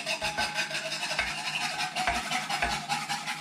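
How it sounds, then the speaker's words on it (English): Eggs are whisked into a bread pudding mixture in a bowl, producing a continuous rhythmic scraping and swishing close up, with regular low knocks as the whisk strikes the bowl. "we're gonna start whisking in our eggs"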